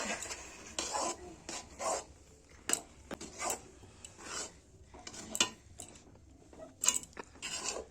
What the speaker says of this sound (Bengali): এবার এই চালের গুঁড়িগুলি দিয়ে দেব, দিয়ে কন্টিনিউ নাড়তে হবে